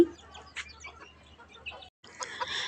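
Native chickens and chicks cluck softly and peep in a quiet backyard coop at feeding time, faint and scattered, with a slightly louder burst near the end.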